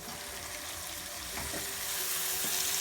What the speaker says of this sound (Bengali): এর ভিতরে এখন সামান্য একটু পানি দিব।